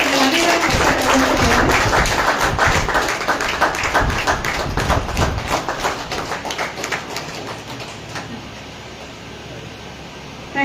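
An audience at an International Yoga Day event at a yoga and nature cure centre claps loudly and steadily, the applause thinning and fading out toward the end.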